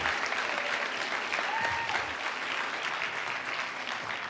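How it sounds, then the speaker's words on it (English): A hackathon audience applauds its sponsors in a continuous round of dense clapping that holds steady and eases slightly toward the end. "So if we could just do one more round of applause for all of our sponsors."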